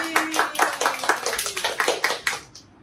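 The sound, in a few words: people clapping hands at a birthday gift opening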